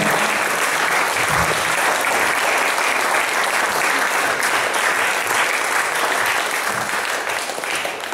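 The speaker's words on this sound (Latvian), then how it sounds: "Un dosim tiešām skaļus aplausus mums kungam" Loud, sustained applause from a church congregation during a Sunday morning worship service, a thick, even roar of many clapping hands that stays strong for about eight seconds and eases only slightly at the end.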